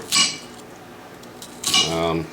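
A knife chops vegetables into chunks on a cutting board for a spicy beef stew, two sharp, close knocks about one and a half seconds apart over quiet room tone.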